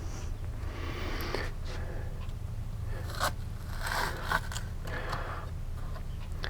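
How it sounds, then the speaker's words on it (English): A knife cuts the end off a stalk of celery on a cutting board, giving a few sharp crunching snaps and scrapes over a low steady hum, close and fairly quiet. "Cut the end off. Cut the little brown piece off of there."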